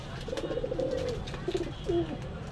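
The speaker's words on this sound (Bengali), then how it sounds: "খুব সুন্দর কবুতর, চোখ লাল আছে" Pakistani pigeons, a pair with red eyes, coo in a few soft, low throaty phrases close by, with a brief pause and a final louder coo.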